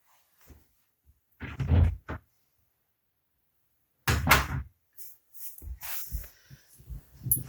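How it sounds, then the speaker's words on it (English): A door opening to let a cat out, with a couple of clunky knocks and a rattle of the latch and frame, then further scuffs and door movement after a pause, indoors and fairly close. "I'm going to let the cat out for a second because he wants to get through the door."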